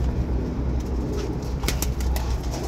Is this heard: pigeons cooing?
yes